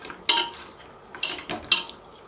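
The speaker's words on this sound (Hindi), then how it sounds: "चार से 5 मिनट के लिए इनको फ्राई करेंगे।" Metal clatter in a cooking pot as goat trotters for mutton paya are stirred and fried, three sharp scraping clanks spaced about a second apart over a low background hiss.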